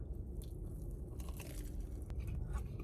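Biting into a sausage, egg and cheese sandwich on jalapeno cheddar bread gives a soft, close crunch and chew, steady and muffled over low background noise.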